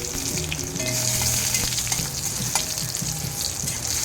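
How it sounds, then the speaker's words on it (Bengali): Chillies fry in hot oil in a wok, giving a loud, steady crackling sizzle with occasional spatters and light stirring scrapes throughout. "লঙ্কাগুলো ভেজে নেব"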